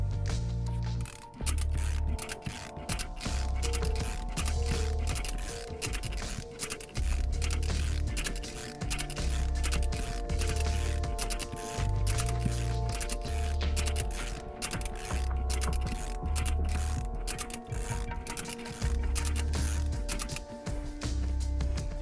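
A Cobra windshield removal tool ratchets as it draws cutting wire through the windshield urethane, giving a steady repetitive mechanical clicking and grinding with low rhythmic thumps throughout; close and continuous, no talking.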